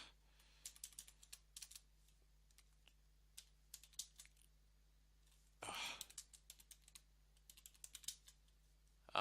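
Fingers tap on a computer keyboard at a workstation running Kali Linux commands, quick irregular clicks in bursts with pauses, a longer rattling run midway, close and quiet, with a soft breath or sigh.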